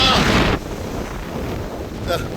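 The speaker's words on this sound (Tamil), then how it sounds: "என்ன காத்து அப்பா" Strong wind roars across a seashore microphone, a loud buffeting gust that eases after half a second into a steady rushing blow with faint surf underneath.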